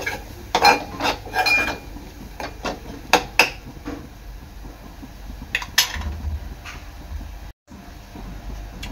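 Metal spoon scrapes and clinks against a pot while crab stuffing is mixed with a little oil, giving irregular close clatters and stirring scrapes with no voices.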